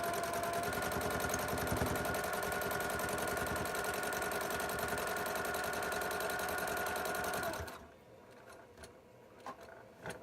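A sewing machine quilting stitch in the ditch, running in a fast, steady mechanical whir for about eight seconds before stopping, leaving a few faint clicks and handling noises.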